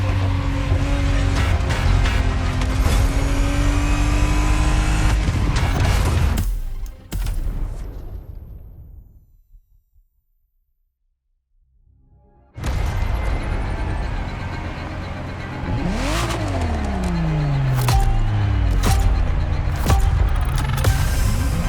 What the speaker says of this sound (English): Ferrari Testarossa